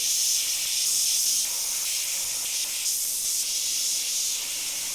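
An airbrush sprays paint onto a T-shirt, a continuous close, fairly loud airy hiss that holds steady for the whole stretch with slight swells in pressure.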